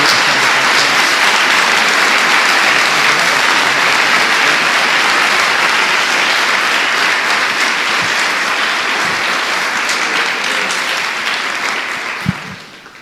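Church congregation applauding together, a loud, dense, steady wash of clapping that holds for about twelve seconds before tapering off, with no talk over it.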